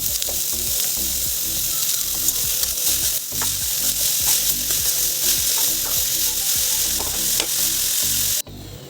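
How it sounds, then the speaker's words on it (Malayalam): Mustard seeds crackle and sizzle in hot oil for a Kerala thoran, a loud dense frying hiss with scattered popping and stirring scrapes, steady throughout and ending in a brief cut near the end. "കടുക് ഇട്ട് കൊടുക്കാം."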